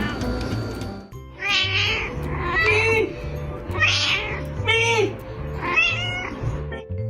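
A cat meows back at its owner in a series of four or five drawn-out, complaining meows with short gaps between them, close and clear over a low steady background hum.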